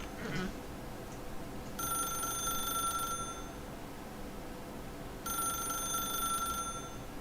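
A telephone rings in The Stanley Parable: Ultra Deluxe, two bright electronic ring bursts of about a second and a half each, separated by a pause, clear and close over a soft room hum.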